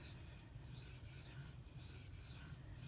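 An S90V steel knife slides over a whetstone in a steady, continuous rasping rub with faint periodic stroke changes, quiet and close, with no speech.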